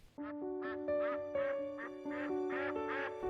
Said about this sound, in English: Their quacks don't echo and no one knows why.